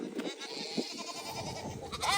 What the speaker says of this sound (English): Can you hear them? Next up, we have got our goats.